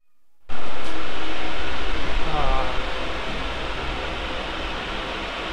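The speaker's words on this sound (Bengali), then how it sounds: "ফাইনালি পৌঁছে গেলাম বনগাঁ স্টেশনে, আর ট্রেনে উঠে পড়েছি।" Broadband rumble and hiss inside a passenger train at Bangaon station, starting abruptly after a brief silence, loud and steady with a faint low-pitched hum underneath, easing slightly toward the end.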